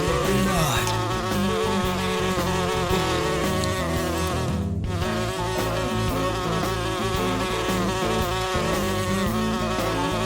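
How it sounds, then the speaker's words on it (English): Swarm of tiny mosquitoes buzzing close around a person crouched under a house near a leaking water line, a steady dense whine with layered tones filling the whole stretch, one brief dip midway. "Right now I got a bunch of tiny mosquitoes flying all over me."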